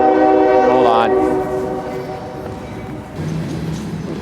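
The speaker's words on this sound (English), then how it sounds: "The train is a little louder" A passing train sounds a loud, close horn for about a second, then its heavy rumble continues on its own.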